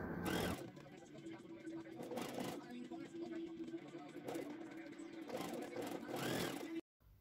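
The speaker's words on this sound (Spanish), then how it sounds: "Vamos a coser a partir de la marquita que hicimos." A sewing machine stitches a men's sport shirt collar in steady, fast humming runs with short stops in between, close up, while a person talks over the work.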